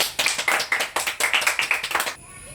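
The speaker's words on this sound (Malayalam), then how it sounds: "എല്ലാരും കൈയടി എടുക്കാം" A class of children claps together in a quick burst of about twenty fairly loud, closely spaced claps, then the clapping stops abruptly.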